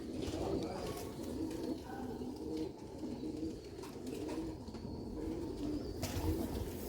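Pigeons cooing close by, a soft continuous murmur of overlapping coos with occasional sharper chirps and faint background noise.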